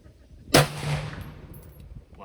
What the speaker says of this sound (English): I think I fired 5 rounds